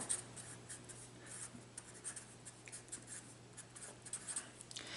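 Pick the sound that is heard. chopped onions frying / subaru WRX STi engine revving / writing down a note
writing down a note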